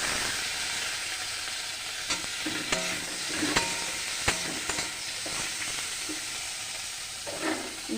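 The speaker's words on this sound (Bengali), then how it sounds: "আমি টমেটো কুচিটা দিয়ে দেবো" Chopped tomatoes added to frying onions in a pan sizzle steadily up close, with repeated clinks and scrapes of a spoon stirring against the pan, no voices.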